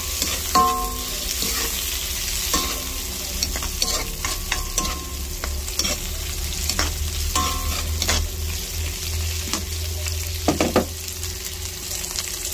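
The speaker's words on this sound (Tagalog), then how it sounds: "lagyan na po natin yung ating shrimp" Shrimp sizzle and fry in a hot pan, with a utensil scraping and stirring at intervals. A steady close crackle runs underneath throughout, and no one speaks.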